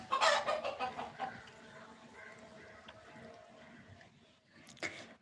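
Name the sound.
chicken clucking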